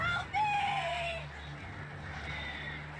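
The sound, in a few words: birds attacking in Alan Wake Remastered video game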